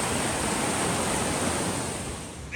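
Steady, broad rush of rainwater pouring down beside a small country road on the Tour du Mont Blanc, close and even with no pauses, alone with no voices.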